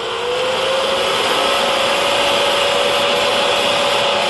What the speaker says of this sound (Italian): uso un normale aspirapolvere